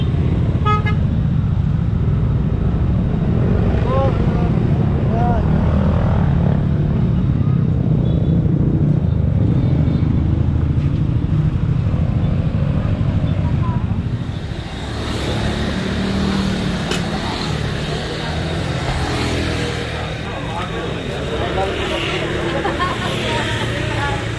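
Dense road traffic on the way to Daraitan River in Infanta, Quezon, with cars and motorcycles rumbling past close by and horns tooting, a continuous loud roar under people talking.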